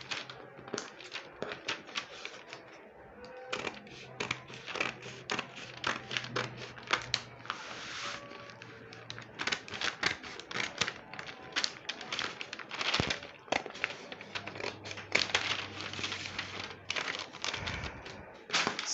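Scissors snip steadily through peplum fabric along a marked line, a dense series of close crisp cuts and rustles with brief pauses, no talking.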